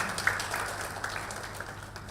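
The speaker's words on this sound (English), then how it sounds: "Students, you can clap for yourselves" Students applauding at an International Day of the Girl Child conference in Nigeria, a soft, even patter of many hands clapping in a hall, faint and somewhat distant throughout.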